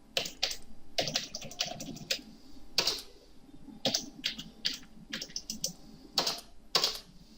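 Text is typed on a computer keyboard while drafting in AutoCAD, with quick bursts of light key clicks separated by short pauses, close and fairly quiet with no speech.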